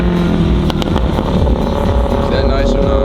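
A 2021 Dodge Charger 392 with a straight-piped exhaust rumbles loud and close throughout, its heavy low engine note steady with slight rises like light revving, while a voice talks over it.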